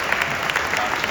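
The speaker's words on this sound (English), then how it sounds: "Another round of applause for Dr. Washington." A brief burst of steady crowd applause greets Dr. Washington at a children's science academy junior white coat graduation. Many hands clap at once, fairly loud and dense, under a faint hint of voices.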